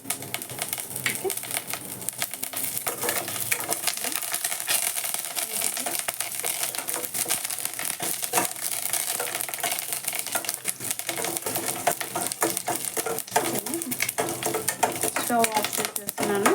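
Lentils for tempering fry in hot oil in a pan, with mustard seeds, cumin, dried red chillies and curry leaves, making a steady close crackling sizzle with sharp pops and spits throughout, alongside faint clinks of a utensil.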